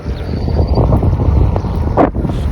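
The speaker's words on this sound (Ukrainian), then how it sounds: "вітер в лице" Steady, roaring headwind buffeting the microphone while travelling by a river through forest, a constant low rumble with gusty swells throughout.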